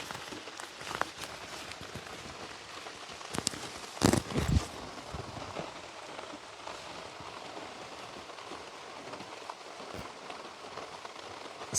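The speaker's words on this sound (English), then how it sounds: "It's raining." Rain falling in the woods at a campsite, a dense steady patter of drops on surfaces with a few louder close taps and brief rustles, no voices over it.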